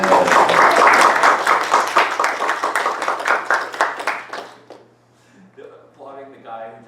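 An audience at a university craft talk breaks into sustained, fairly loud clapping that slowly fades out, then a voice speaks briefly.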